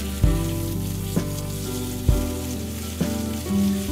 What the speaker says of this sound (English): in a pan on high heat, you're going to sear the pork on both sides